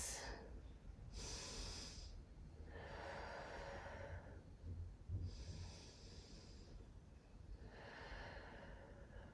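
Slow, deep yoga breaths during a beginner Ashtanga lunge, heard as four audible inhale and exhale cycles with soft airy rushes and slight nasal snorts, near and quiet with no talk.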